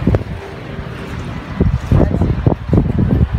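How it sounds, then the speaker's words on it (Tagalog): Strong monsoon wind roars and buffets steadily, gusting harder in bursts toward the end, with a low rumbling rush throughout. "Yan yung lakas ng hangin."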